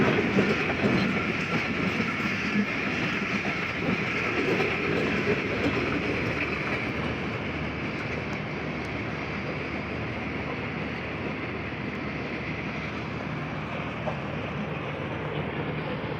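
The Jaffar Express passes on a railway line alongside a train halted on a loop line, giving a steady, dense rumble and rolling rattle that holds at an even level throughout, fairly near.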